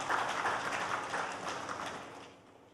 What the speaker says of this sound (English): Another round of applause for him.